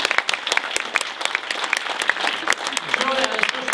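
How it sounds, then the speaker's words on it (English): A round of applause from a crowd at the Converge on the Capitol 2015 rally after a speech, with dense steady clapping lasting several seconds and a voice emerging near the end. "How about another round of applause for Joy and her fantastic speech?"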